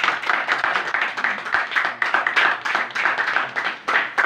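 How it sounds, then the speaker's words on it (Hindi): A church congregation bursts into loud, steady clapping during a Hindi-language Bible study service, many hands beating in a dense, slightly uneven rhythm that fills the space without pause. "एक बार जोरदार तालियां।"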